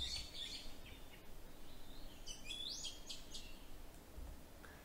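A thrush recently split from the island thrush sings in Taiwan: faint, distant, high whistled phrases and chirps over a steady hiss of background ambience.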